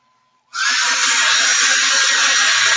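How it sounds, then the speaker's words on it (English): A handheld blow dryer switches on abruptly after a brief quiet and then holds a loud, steady, airy whine as it dries a chalk-painted art board, with no voices. "All right, let's hit this with the blow dryer. A little bit of noise here."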